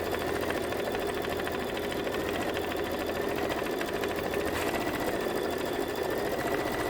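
A sewing machine quilting runs at a steady, fast stitching hum, loud and close, a continuous even mechanical drone with no talking.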